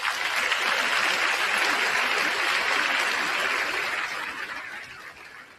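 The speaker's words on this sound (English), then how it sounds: "please join me in a round of applause to thank our families for their love and support." Broad, sustained round of applause from a crowd at a junior high school promotion ceremony, steady and full for several seconds before tapering off toward the end.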